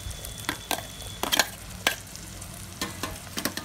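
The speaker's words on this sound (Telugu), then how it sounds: "నేను ఇప్పుడు పచ్చిమిరపకాయలు కూడా వేసేస్తున్నాను" Green chillies frying with onions in a pan for Andhra-style crab pulusu: a soft sizzle broken by repeated sharp spatula scrapes and taps in an uneven rhythm, close and alone.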